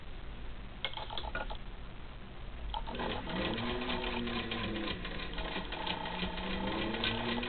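A 1940 Singer 15-91 sewing machine stitches through four layers of light cotton fabric, a steady rapid mechanical whir and patter that starts after a few scattered clicks and runs continuously, close and fairly loud.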